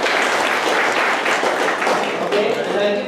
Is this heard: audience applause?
yes